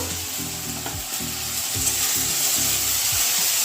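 Turmeric and chili powder sizzle in hot fat in a pan as the spice base for dal is fried, with steady frying hiss and repeated scraping strokes of a spoon stirring it, close and alone.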